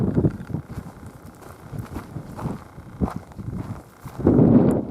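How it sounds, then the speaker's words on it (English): Wind gusts across a railroad grade crossing in Plano, Illinois, buffeting the microphone with uneven low rumbles that swell louder near the end. "Dang wind."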